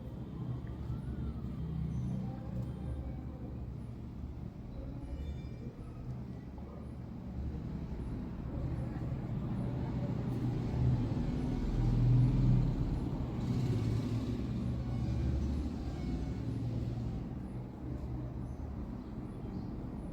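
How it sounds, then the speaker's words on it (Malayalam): Busy bus stand in Kozhikode, the largest in Malabar, with a steady rumble of idling and moving buses, passing traffic and an occasional hiss of air brakes, dense and continuous throughout. "മലബാറിലെ ഏറ്റവും തിരക്ക് പിടിച്ച ബസ് സ്റ്റാൻഡും ഇതുതന്നെയാണ്."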